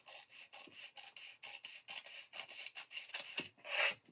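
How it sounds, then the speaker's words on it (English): Scissors cut through folded pattern paper for a skirt in quick, close, rhythmic rasping snips, faint and dry, rising to a louder rustle at the end. "Keep the paper folded and cut at the waistline"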